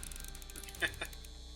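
A cranking mechanism ratchets up in a Back to the Future video game, giving a quick run of close, crisp mechanical clicks with a couple of sharper clacks near the end.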